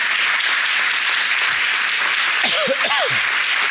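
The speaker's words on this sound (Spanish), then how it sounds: "Dale un aplauso al Señor." A church congregation claps and cheers in continuous, dense applause, loud and even throughout, with a couple of short vocal whoops rising over the clapping near the end.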